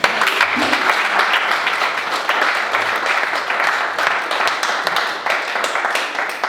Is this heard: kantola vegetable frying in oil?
no